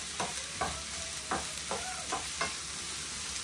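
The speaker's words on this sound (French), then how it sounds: "Je mélange, je fais saisir un petit peu." Onions and bell peppers sizzling in oil in a pan, stirred with a few distinct scraping strokes spaced about half a second apart over a steady, close frying hiss.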